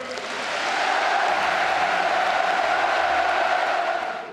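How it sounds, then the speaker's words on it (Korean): A large crowd at the 2018 Pyongyang inter-Korean summit breaks into sustained applause and cheering for President Moon Jae-in, a dense roar that swells in and holds loud throughout. "우리 모두 문재인 대통령에게 열광적인 박수와 열렬한 환호를 보내줍시다."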